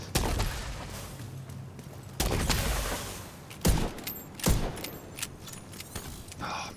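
Diamondback rifle fire in The Division 2 conflict match, a few sharp loud cracks spaced seconds apart over busy game ambience, with clatter between shots.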